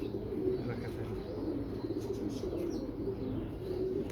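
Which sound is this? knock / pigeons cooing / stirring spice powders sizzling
pigeons cooing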